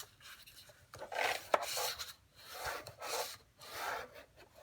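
Scoring tool drawn across paper to crease a fold line for a gift bag, a few soft scraping strokes in close succession with brief pauses between them.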